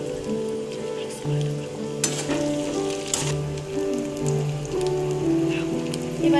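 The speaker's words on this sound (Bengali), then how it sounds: "আলুটা কিছুক্ষণ ভাজার পরে এবারে দিয়ে দিচ্ছি গাজর" Potatoes with carrots and green chillies frying in a pan, a steady close sizzle with occasional stirring clatter and faint tonal background sounds.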